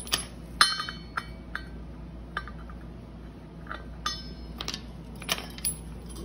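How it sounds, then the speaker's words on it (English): Metal sockets clinking and clattering as one is grabbed during work on a 2011 Polaris RZR 800, scattered sharp bright clinks, close and quiet, with no talk. "Grabbed the wrong socket."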